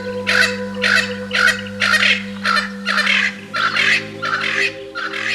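Black grouse calling in the Siberian wild: about nine loud, rhythmic bursts of bubbling, gobbling song repeat steadily at close range, over a constant low hum.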